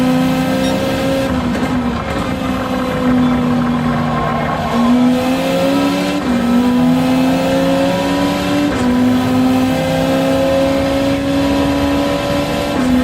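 A race car engine in a racing video game on the Sardegna track drones loudly and steadily, its pitch climbing and dropping at several gear shifts, with no talk throughout.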